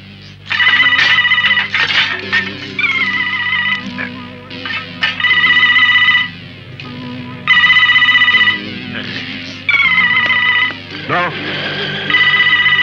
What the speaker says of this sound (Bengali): কেউ ফোন ধরবে না।